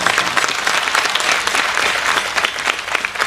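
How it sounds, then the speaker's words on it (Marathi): An audience at a devotional kirtan gathering claps steadily, the dense, even applause loud and continuous throughout with no voices standing out. "अशा माणसाला टाळ्या नाही वाजवायच्या"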